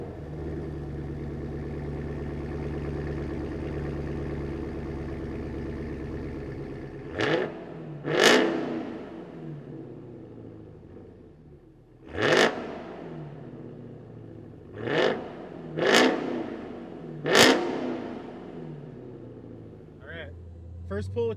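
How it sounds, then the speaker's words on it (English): A 2022 Dodge Charger Hellcat, 717 hp V8 with a MagnaFlow XMOD cat-back exhaust, idles with a steady rumble and then fires off five or six sharp revs spaced a few seconds apart, close and loud, with people talking nearby. "we should probably fire this thing up"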